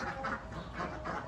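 Laying ducks quack in a few rough, nasal bursts, moderately close, with a soft background hum between the calls.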